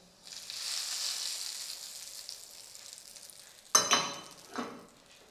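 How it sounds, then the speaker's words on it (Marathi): Cumin tempered in hot ghee crackles and sizzles softly for several seconds, then two sharper bursts of sizzle follow as the tempering hits the chutney, fairly quiet and close with no talk. "जिरं मस्त फुललं आहे या चटणीवर फोडणी घालू"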